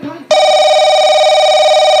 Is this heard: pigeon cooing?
no